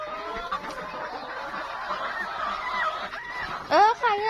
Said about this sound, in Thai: ถ้ามันร้องกระตากกระตากกระตากนั่นเนี่ย หมายความว่ามันไข่เสร็จ